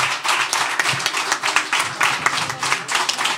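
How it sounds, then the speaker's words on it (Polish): An audience claps steadily throughout at a school New Year's concert, dense and continuous applause with no talking. "Brawa wielkie dla wszystkich artystów,"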